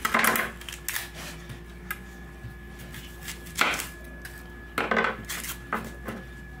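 Knife slicing onion on a cutting board for a salad, a few separate crisp cuts and taps spaced irregularly, close and fairly quiet with no talking.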